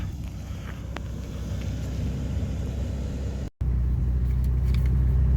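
A lifted two-wheel-drive van rolls along an off-road trail, its engine a steady low rumble mixed with wind buffeting the microphone, cut by a brief dropout before resuming louder.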